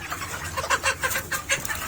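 Chickens on a poultry farm with plastic flooring cluck and squawk in overlapping bursts at moderate volume over a constant barn hum.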